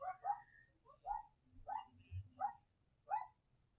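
Several short dog barks and yips come in an irregular series, faint and somewhat distant, over a low background rumble.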